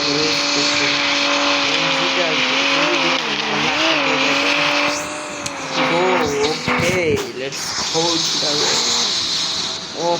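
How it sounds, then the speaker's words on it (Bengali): Engine of a BMW M4 racing on a highway in the Roblox game, a sustained revving drone with pitch shifts and a brief skid-like burst midway, loud throughout. "তো এখন আমি আমার BMW নিয়ে যাবো রেস করতে।"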